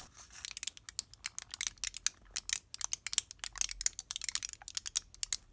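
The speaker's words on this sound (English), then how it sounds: "This was the sound of some packaging for calcium tablets being twisted," Foil-backed blister packaging for calcium tablets is twisted by hand, producing a rapid run of sharp, dry crackles and ticks in uneven bursts, close and crisp, with no speech.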